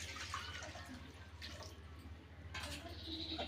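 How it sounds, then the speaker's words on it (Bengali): Water poured into a karai cooking pan set on the stove, a soft continuous splashing and trickling at low level, close by, with faint background hum. "প্রথমে আমি কড়াটা বসিয়ে দিলাম, তারপরে জল দিয়ে দিলাম"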